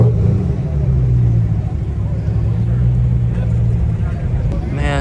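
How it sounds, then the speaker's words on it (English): Cars rolling into the Malibu Marketplace exotic car meet, including BMW M3s and Porsches, make a close, loud engine rumble with a short rev near the end as someone talks over it. "Man, so many more cars coming."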